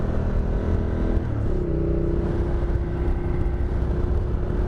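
A Ducati Multistrada motorcycle engine revs hard and steadily, its tone stepping up partway through as the bike pulls a wheelie, loud and close with no talking.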